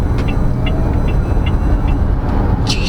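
Inside a 2023 Weltmeister W5 electric car at full power, a loud steady road and motor roar fills the cabin, with faint repeated ticks and a short higher whine near the end.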